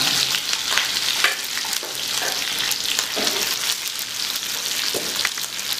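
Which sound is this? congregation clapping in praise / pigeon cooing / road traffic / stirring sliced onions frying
stirring sliced onions frying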